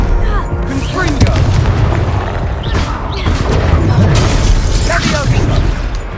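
Explosions from the Confringo fire spell in the video game Hogwarts Legacy, loud booming blasts and crackling debris over a constant wash of game noise, with a player's voice running underneath.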